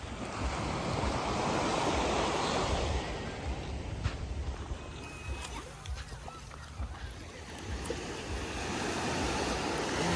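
Waves wash onto a beach at Gangneung on Korea's east coast, a steady broad roar of surf with wind buffeting the microphone, close and continuous throughout.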